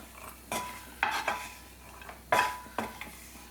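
Fried cashew nuts being scooped out of a pan of hot oil while making poha mixture: several sharp metal clinks and scrapes of a spoon against the pan, spaced irregularly and fairly close, with no talk.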